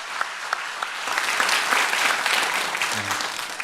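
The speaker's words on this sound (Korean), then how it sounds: "우리 수고하실 모든 분들 위해서 우리 박수로 한번" Church congregation applauding during a Sunday worship service, a sustained wash of clapping from a full room that swells and holds steady, with a brief low murmur of voices near the end.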